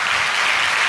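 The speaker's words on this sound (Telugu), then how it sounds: "చప్పట్లు కొట్టండి" Church congregation clapping loudly during a Sunday sermon, a dense continuous burst of applause close by.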